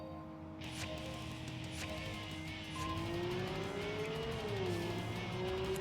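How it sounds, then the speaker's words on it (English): Deep V8-style car engine in a Wangan street-racing video game, droning steadily with rising and falling revs and a sustained pitch sweep, loud and continuous with no talking. "I guess you can say a V8 sort of sounding engine in this game."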